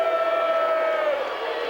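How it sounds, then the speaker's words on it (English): Crowd noise rising in a high school gym during the 1992 Class D1 boys state basketball championship, Humphrey St. Francis against Wallace, a steady loud roar of cheering from the stands with a sustained whistle-like tone over it. "And the St. Francis crowd gets into it."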